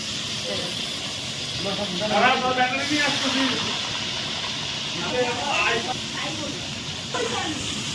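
Potatoes frying in hot oil for a Bengali tangra fish chorchori, a steady broad sizzling hiss under a voice.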